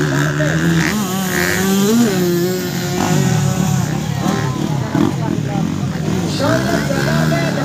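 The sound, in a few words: motocross motorcycles racing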